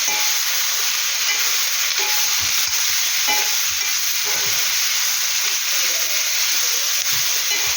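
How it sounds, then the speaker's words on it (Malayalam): Ivy gourd sautéed in a pan with dried red chilies and curry leaves, a loud continuous sizzle up close with scattered scraping and stirring knocks throughout. "ഇനി നന്നായിട്ടൊന്ന് വഴറ്റിയെടുക്കാം."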